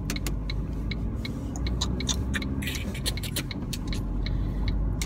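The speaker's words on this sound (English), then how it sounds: "God, Bennett, get into second gear, will you, love?" Car engine hum while driving, a steady low drone with repeated sharp ticking clicks above it and no clear gear change.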